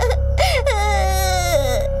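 A young child wails loudly and continuously, with rising and falling pitched cries close by, filling the whole moment.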